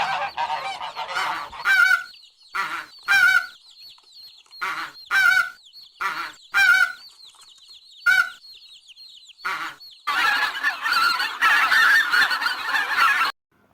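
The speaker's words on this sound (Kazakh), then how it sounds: "Мына құс қаз. Қаз га, га, га" A goose honks loudly and repeatedly in short separate bursts, close by, ending in a longer run of harsh, continuous honking.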